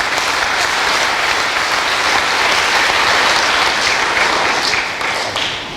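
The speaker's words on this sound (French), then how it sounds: "Je vous demande de les applaudir très fort." Loud, dense applause from a crowd at a parish patronal feast in Thiès, a sustained wash of clapping that holds steady for several seconds before tapering slightly at the end.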